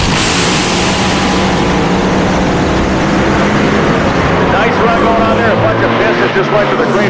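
Slingshot front-engine dragsters race at a drag racing event, a constant loud engine roar that fills the whole stretch, with an announcer talking over the noise.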